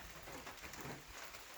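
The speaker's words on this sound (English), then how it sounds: "in the pouring rain" Pouring rain on a mountain hiking trail, a dense, even hiss of drops with no distinct pattern, steady and moderately faint throughout the brief stretch, with no voices.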